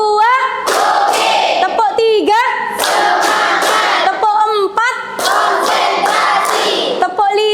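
Teacher and pupils in a classroom playing a numbered clapping rhythm game, with sharp hand claps scattered between loud, rhythmic group chanting that carries most of the clip.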